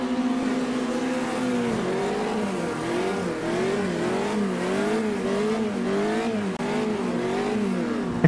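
A race car in Automobilista 2 spins donuts on grass, its engine revving up and down in continuous sweeping waves at close range, with no talk.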